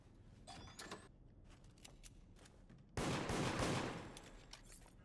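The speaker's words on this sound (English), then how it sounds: "I'm getting shot at." Gunfire in the video game Deceit: a dense burst of rapid shots erupts partway through and rattles on loudly for over a second, after scattered quieter clicks and movement sounds.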